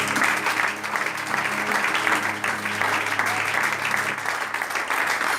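A church congregation applauding during a worship service, with dense steady clapping from many hands filling the space close and loud, continuous for several seconds without a break.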